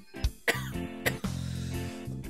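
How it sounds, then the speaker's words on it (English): A man has a coughing fit, several sharp, harsh coughs in quick succession close to the microphone. "Cough attack!"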